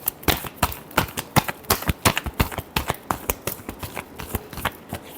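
Tarot cards are shuffled close up in a quick run of sharp riffling clicks and taps that carries on for about five seconds with no talking.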